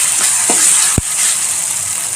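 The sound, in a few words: ginger garlic paste sizzling in hot oil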